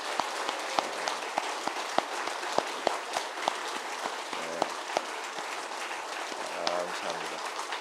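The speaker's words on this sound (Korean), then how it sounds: "우리 다 들어갈 때까지 우리 박수로 뜨겁게 하겠습니다." Warm applause from a congregation at a Christian evangelistic rally in Chuncheon, steady clapping with a few louder distinct claps throughout, heard at moderate distance with a little vocal sound mixed in.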